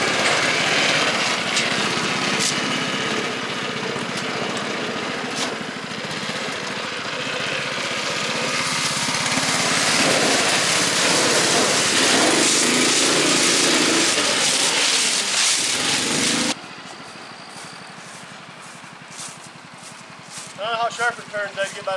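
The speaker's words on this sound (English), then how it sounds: "we're going to take it for its first test ride" Snowdog motorized track unit towing a homemade chariot, a loud, steady engine drone that builds and holds for about sixteen seconds, then drops to a quieter idle with rattling.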